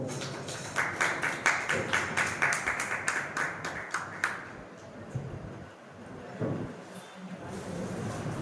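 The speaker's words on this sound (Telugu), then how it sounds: "చప్పట్లతో మనం సన్మానిద్దాం" Audience clapping together at a Republic Day celebration hall, a burst of fairly loud, dense claps that fades after a few seconds into quieter room noise.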